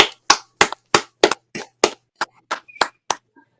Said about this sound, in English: All right, Khan, clap it up